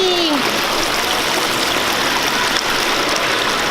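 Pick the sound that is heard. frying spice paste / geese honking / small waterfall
small waterfall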